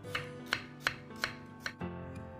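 A knife chops bitter melon into thick slices on a cutting board for hot pot, giving five evenly spaced crisp chops followed by a softer sixth, close up and clear, with no talking.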